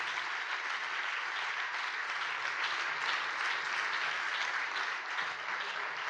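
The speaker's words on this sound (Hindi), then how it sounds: "Clap hands. Amen. And praise the Lord." A church congregation in Mumbai claps together in praise during a bilingual English-Hindi service, dense continuous applause filling the room evenly for several seconds.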